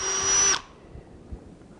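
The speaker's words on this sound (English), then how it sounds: "and go ahead and drilling through" A power drill bores a pilot hole through wood, a loud high whine for about half a second that then stops abruptly, leaving faint handling sounds.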